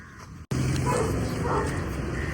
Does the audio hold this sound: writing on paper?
no